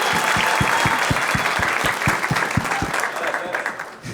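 A small group applauds with quick, fairly rhythmic claps that stay strong for a few seconds before thinning out near the end.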